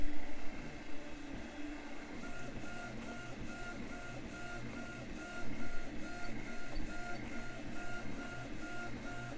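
A 3D printer fitted with a Nova hotend prints TPU at high speed, giving a continuous motor whir with rapid, regular stepper ticks and pulses that quicken partway through, close and moderately quiet.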